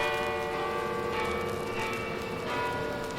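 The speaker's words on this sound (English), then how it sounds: "Well, what do you know? The bells!" Bells ring out as a sound effect in a Spider-Man audio drama, several overlapping tolling strikes blending into a loud, sustained metallic wash.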